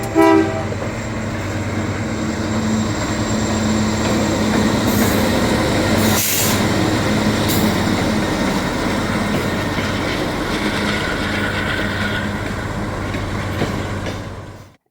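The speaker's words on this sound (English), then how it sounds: "the last train I caught before my big trip was an ET44 on the Altoona sub" An ET44 locomotive rolls past on the Altoona sub, a loud steady rumble of engine and wagons with a brief horn blast near the middle, the roar fading slightly toward the end.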